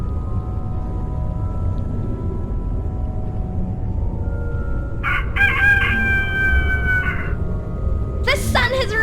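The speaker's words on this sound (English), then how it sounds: "The sun has risen and the rooster crows." A rooster crowing in the video game A Vampyre Story, a bright, drawn-out cock-a-doodle-doo in the second half followed by a shorter call, heard over a low ambient game background.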